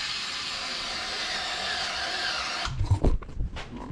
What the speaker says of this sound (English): This is supposed to be a drill, but I guess you can't really use it for big stuff